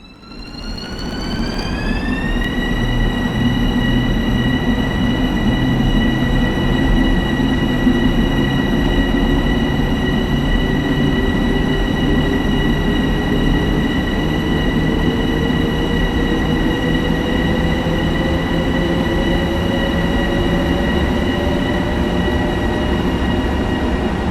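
A train rumbles steadily along with a loud, constant drone and a high sustained whine, its pitch slowly rising; no voices. Train Sim World 3 video game, Harlem Line.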